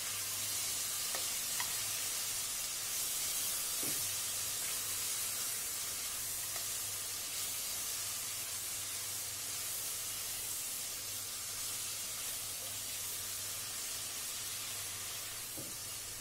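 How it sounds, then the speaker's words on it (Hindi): Mutton frying with onions in a pan gives a steady, close sizzling hiss for the whole stretch, broken by occasional faint scrapes as a spoon stirs it, with no talking. "चम्मच चलाते हुए मटन को प्याज के साथ दो मिनट तक फ्राई कर लेंगे"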